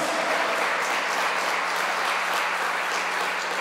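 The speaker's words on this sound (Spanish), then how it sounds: "Fuerte el aplauso para Dios." Sustained applause from a big congregation at a church worship service, loud and unbroken, with no voices over it.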